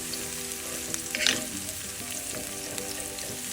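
Chopped garlic sizzling in a pan over medium-low heat, a continuous gentle crackle with a brief brighter hiss and clink near the start, no talking.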